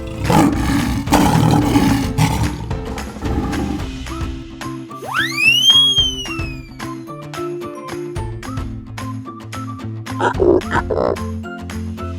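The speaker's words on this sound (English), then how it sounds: "Lion. They're so strong." A lion roar from a children's toy in pretend play rises loud and drawn-out over plinking musical tones, with bright repeated notes continuing before and after the roar.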